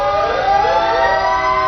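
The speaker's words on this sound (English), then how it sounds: "because the sirens and the horns are going." Loud emergency sirens wail continuously with rising and falling tones in an Independence Day parade, a fire truck among the vehicles, sustained and close with engine rumble beneath.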